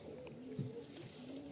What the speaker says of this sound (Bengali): হচ্ছে নর পায়রা